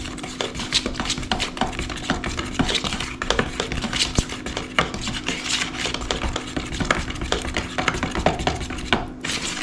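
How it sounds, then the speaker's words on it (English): Milk paint being mixed and stirred with water in a container, steady scraping and clinking strokes at close range, fairly quiet, with no one talking. "Again, mix it really well."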